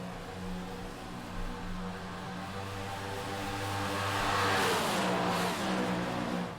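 Race cars roar around the 2023 ARCA race at Daytona, a steady loud engine drone that swells as the pack passes close, with lapped cars running on the outside of the leaders.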